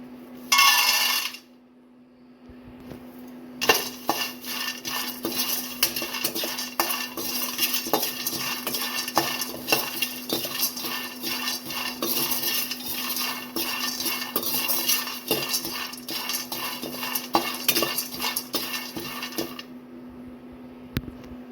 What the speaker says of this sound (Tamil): வேர்க்கடலையே நம்ம அதே கடாயில் நல்லா வறுத்து எடுத்துக்கலாம்